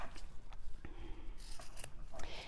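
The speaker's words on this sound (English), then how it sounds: "So I am going to trim this a tiny bit before I go any further." Scissors snip and rasp through the fabric of a handmade passport holder in a series of short, close, crisp cuts with brief pauses between them.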